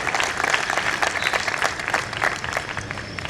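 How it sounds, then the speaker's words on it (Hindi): An audience claps together at a memorial remembrance gathering, steady, loud applause filling the room without a break. "एक बार ताली आप अपने लिए बजा लो"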